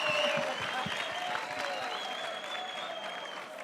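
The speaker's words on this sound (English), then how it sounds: "Round of applause for that." Conference audience applauding, a dense and steady patter of many hands clapping, loud and close, fading slightly toward the end with no one speaking over it.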